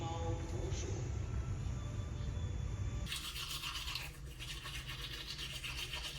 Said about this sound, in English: Brushing teeth, obviously.